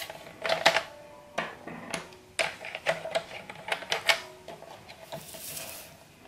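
Scissors cutting paper for a pop-up card, heard as a series of crisp, close snips and rustles in an irregular rhythm, with a softer papery swish at the end and no talking.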